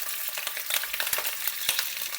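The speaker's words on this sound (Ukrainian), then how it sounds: "Смажуємо курочку." Oil sizzles and crackles steadily as chicken fries in a pan, with a few sharper pops and stirring scrapes along the way.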